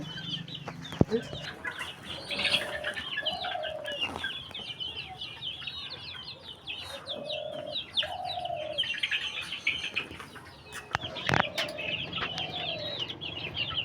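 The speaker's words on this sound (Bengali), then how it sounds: "বড় মুরগিগুলো চলে আসতেছে নিচ থেকে এই জন্য বড়গুলোকে তাড়ানো হচ্ছে" Native hens on a village chicken farm cluck repeatedly, with chirping chicks and other fowl all around, a few sharp knocks and bumps as the larger birds are chased off, and faint voices in the background.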